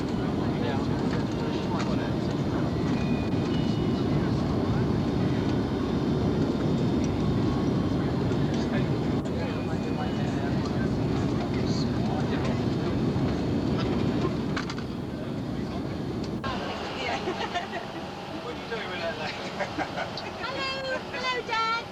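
Steady low roar inside a Concorde cabin in flight on an approach past an airfield, continuous and fairly quiet, easing slightly near the end, with people talking throughout.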